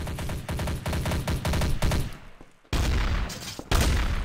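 Rapid gunfire rings out in the Garry's Mod game mode Trouble in Terrorist Town: loud, close bursts of repeated shots, a short pause, then a few more heavy volleys.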